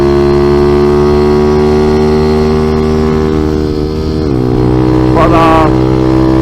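Honda CT70 clone motorcycle with a ZS190 engine running steadily while being ridden, its engine note loud and continuous with a slight drop in pitch near the end, accompanied by a brief rise of wind or road noise.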